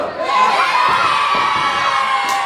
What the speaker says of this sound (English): Steeler getting this crowd and Breezy Point fired up